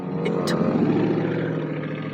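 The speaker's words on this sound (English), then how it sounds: "that was that sound of these muscle cars that just come to Pacific Grove" A muscle car engine drones past in Pacific Grove, a loud, steady low rumble that holds throughout, with a couple of brief higher bursts early on.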